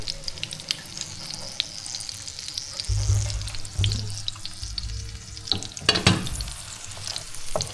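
Food frying in pork fat over high heat, a constant crackling sizzle with stirring and a few clattering knocks close by, plus a short rush of running water partway through.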